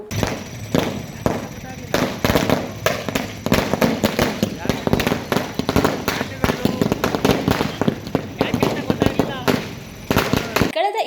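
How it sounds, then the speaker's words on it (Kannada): Rapid strings of firecrackers crackle and pop in loud, irregular bursts for several seconds at a town traffic circle during a political party celebration, with voices audible underneath the bangs. "ಜೆಡಿಎಸ್ ಕಾರ್ಯಕರ್ತರು ಪಟ್ಟಣದ ಬಸವೇಶ್ವರ ವೃತ್ತದ ಬಳಿ ಪಟಾಕಿ ಸಿಡಿಸಿ ಸಂಭ್ರಮಿಸಿದ್ದರು"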